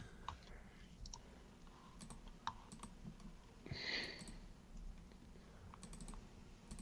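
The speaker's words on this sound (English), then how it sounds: "It's like my keyboard." Quick bursts of typing on a computer keyboard sit close to a microphone, irregular clicks scattered over a faint steady room hiss, with one louder clatter partway through.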